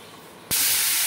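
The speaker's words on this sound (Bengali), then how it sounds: "পনিরগুলো ভেজে নিচ্ছি, একটু নুন দিয়েছি আর একটু সামান্য হলুদ একটু নুন দিয়ে পনিরগুলো ভেজে নিচ্ছি" Paneer frying in hot oil with salt and turmeric, a sudden loud hiss and sizzle bursting in halfway and holding steady to the end.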